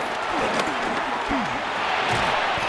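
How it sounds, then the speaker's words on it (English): Loud stadium crowd roar in the Madden NFL 26 video game, a steady dense wash of cheering that swells through the play, with a commentator speaking over it. "This crowd trying to be a factor, getting very loud now."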